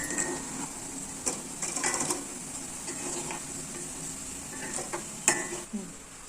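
Cabbage pakoda fritters frying in hot oil with a steady sizzle, interrupted by several sharp scraping clicks of a spoon stirring and turning them in the pan, alone without talk.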